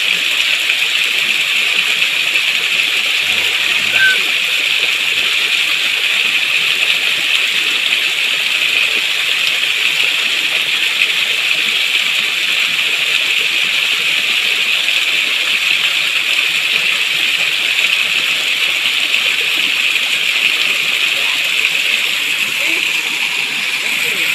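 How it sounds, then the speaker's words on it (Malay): Tiered waterfall deep in the North Aceh jungle, a continuous loud rushing roar of falling water filling the whole stretch without break. "Ya, ini air terjunnya."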